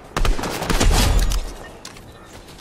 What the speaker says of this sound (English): Oh, somebody else is shooting at me.